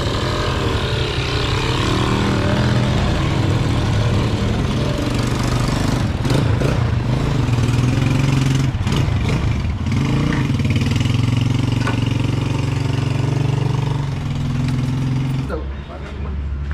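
Old 34-year-old Yamaha RS two-stroke motorcycle engine idling in a narrow street, then revving in a few sharp bursts before settling back, loud and close with people talking nearby.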